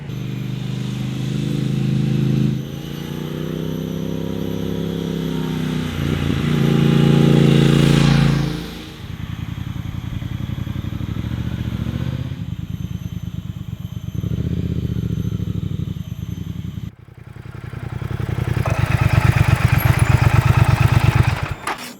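Triumph Speed Twin 1200 motorcycle on its stock exhaust, a loud, deep engine note that swells as it revs, eases back, then surges again into a strong throttle rise near the end, with no talk over it.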